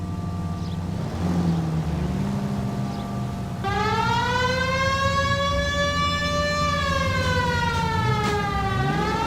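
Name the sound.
police siren in the video game L.A. Noire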